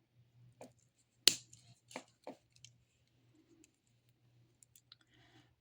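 Jewellery chain is cut at an oval link, giving a few sharp, close snips and clicks. They are spaced irregularly, with small handling ticks between them in a quiet room.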